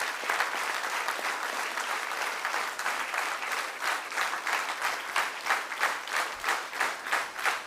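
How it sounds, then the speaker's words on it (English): An audience at a spiritual talk gives a huge, steady round of applause that runs unbroken for the whole stretch, dense and fairly close, with no talk over it. "So I will request to give a huge round of applause for coordinating the three stalwarts here."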